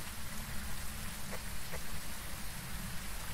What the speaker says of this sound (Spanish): sigo, escuchando la lluvia, pero no veo que llueva